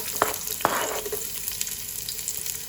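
Onions sizzling in hot canola oil for sinigang na bangus, a steady close frying hiss with two sharp spoon clinks early on.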